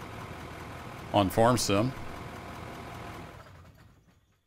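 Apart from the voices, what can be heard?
vehicle engine idling in the video game Out of Ore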